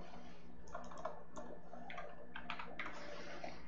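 Keys tapped on a computer keyboard at a desk, a few short bursts of light clicks spread irregularly over several seconds, quiet and close against a faint steady hum.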